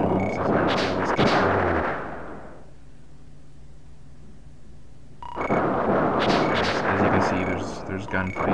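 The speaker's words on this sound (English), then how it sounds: "There's gunfights." Gunfire from the SNES action game Flashback, loud bursts of shots at the start and again after a quieter stretch, mixed with game music and effects.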